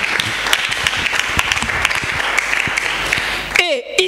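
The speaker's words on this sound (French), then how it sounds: "On acclame pour la parole du Seigneur" A church congregation clapping together, steady dense applause throughout at close range, ending with a brief voice over the fading claps.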